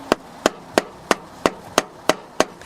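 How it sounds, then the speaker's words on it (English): A rubber plastic mallet taps a Subaru Impreza front CV axle, giving eight evenly spaced, sharp knocks close by with no talking. "I'm gonna get a few lub taps with a mallet just in case"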